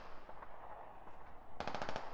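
Gunfire in the tactical shooter game Squad: a quiet, muffled ambience gives way to a quick automatic burst of about six evenly spaced shots near the end, moderately close, with no talk.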